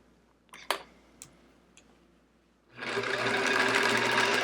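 A sewing machine quilting stitch in the ditch on a chevron quilt starts up after a few scattered clicks and then runs at a steady, fast, close-up whir until the end.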